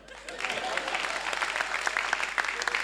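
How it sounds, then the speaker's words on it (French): A comedy show audience in Gabon claps in a steady, lively round of applause that grows and carries on with a few sharper claps standing out, no talking over it. "On applaudit pour le Poutoulouman"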